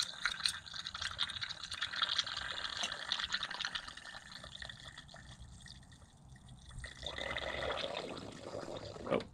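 Coolant spilling and trickling from a car radiator cap during a cooling system pressure test, a faint, steady liquid dribble and splash close by that briefly thins out before pouring again.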